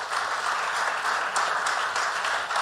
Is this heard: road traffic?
no